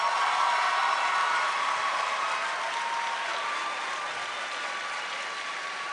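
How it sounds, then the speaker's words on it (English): Audience at a white coat ceremony giving a sustained round of applause, a dense, even wash of clapping hands heard from within the hall, slowly easing off. "I want to hear a resounding round of applause for us."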